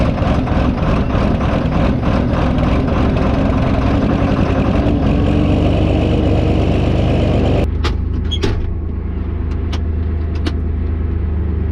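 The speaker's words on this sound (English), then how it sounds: "we'll be good to start the tractor up and get back to farming" A farm tractor's engine runs with a loud, steady low rumble and a throbbing pulse. Partway through it shifts to a smoother idle, with a few sharp clanks and hisses.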